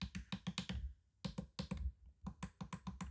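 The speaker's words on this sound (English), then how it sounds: "There are a lot of buttons here and they have a pretty nice click" Buttons on a Leoxz XF-1 sim racing wheel are pressed in quick clusters of sharp, crisp clicks, close up and alone, with brief gaps between runs.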